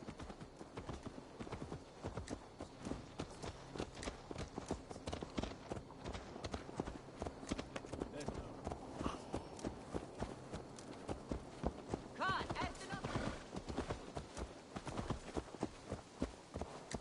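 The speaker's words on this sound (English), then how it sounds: "Let's return the horse" Horse hooves clip-clop steadily in Assassin's Creed Valhalla as the horse is ridden, a rhythmic, fairly quiet patter of footfalls that continues throughout, with faint background ambience.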